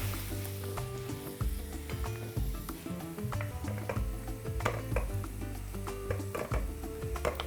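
Onion and carrot cut into strips fry together in a pan, crackling with a continuous close sizzle punctuated by frequent sharp pops and occasional stirring clinks.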